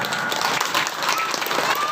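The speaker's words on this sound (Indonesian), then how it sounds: "Tepuk tangan." Short burst of clapping from an elementary school audience during the principal's speech at SDN Bukit Panca Mulya, lively and uneven over two seconds, with some voices mixed in.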